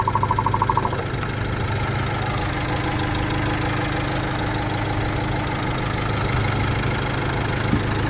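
A used commercial vehicle's engine idles steadily and evenly at a car market, a continuous close hum with a faint rhythmic ticking and no voices.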